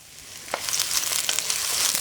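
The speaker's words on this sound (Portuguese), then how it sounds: "Eu vou colocar o shimeji, mas tomar cuidado para não colocar muito shimeji do mesmo tempo" Shimeji mushrooms sauté in a hot pan as part of a quinoa risotto, a bright continuous sizzle with crackling pops that swells louder after they hit the oil.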